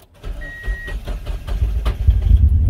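A Mazda Miata NB2 engine cranks and fires up, the starter churning briefly before the engine catches and its rumble swells, close and loud.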